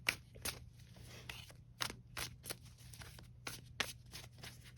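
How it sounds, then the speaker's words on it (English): Tarot cards being shuffled at close range: a run of quick, crisp riffling bursts in an uneven rhythm, separated by short pauses, with a faint low hum underneath and no voices. "And let's give these a shuffle"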